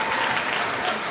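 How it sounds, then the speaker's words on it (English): Dense applause from faculty and staff at a university staff performance awards ceremony as a dean receives a trophy, brief steady clapping filling the hall. "Please cheer him up, cheer him up."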